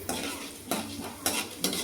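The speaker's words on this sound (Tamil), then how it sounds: "கடலைப்பருப்பு உளுந்தம்பருப்பு 2 செவக்க வறுந்து வரணும்." Chana dal and urad dal roasting in a pan, stirred with a spoon: a steady close gritty rustle and sizzle, with four sharper scraping strokes in under two seconds and no voices.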